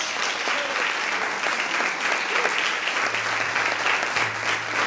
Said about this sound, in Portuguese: Quantos podem glorificar o Senhor e aplaudir o nome de Deus nessa noite?